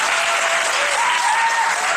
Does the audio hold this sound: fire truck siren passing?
no